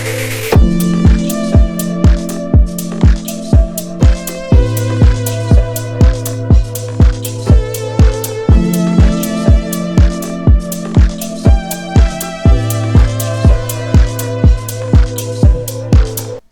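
Improvised 80s-style Omnisphere lead synth melody riding over a looping house beat with a steady four-on-the-floor kick and crisp hats, loud and continuous with no voices.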